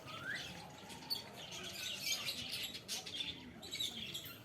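Colourful caged birds at a zoo in Guwahati, including budgerigars, cockatiels and lovebirds, chirp and squawk faintly in a steady busy chatter with scattered sharper calls.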